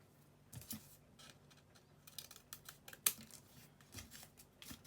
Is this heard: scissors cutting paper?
yes